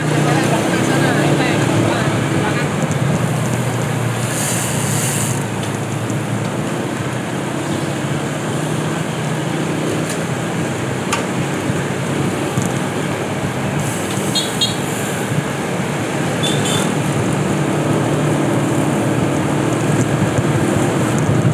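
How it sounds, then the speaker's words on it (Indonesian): Road traffic near Pandak field makes a steady, loud roar of passing vehicles, with a few brief toots breaking through. "Inilah kondisi lalu lintas lapangan Pandak."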